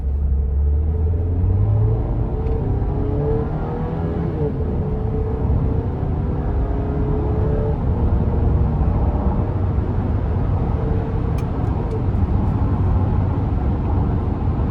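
A 2024 Chevrolet Traverse LT with a 2.5-liter turbo four accelerates, heard from inside as a loud, continuous low engine and road rumble with a gently rising tone throughout.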